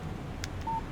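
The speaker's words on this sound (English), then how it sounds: "Text message from Barry." A short electronic phone alert tone sounds once for an incoming text message in the Alan Wake video game, with a couple of soft clicks just before it.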